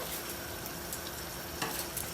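Chicken karahi pieces sizzle and crackle as they are stirred and fried with spices in a pan, a soft, steady frying hiss with a few louder scrapes of stirring and no voices.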